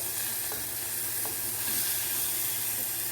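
Shallots sizzling steadily in hot oil in a pan for prawn gravy, a dense continuous frying hiss with a couple of faint stirring taps, close and fairly loud.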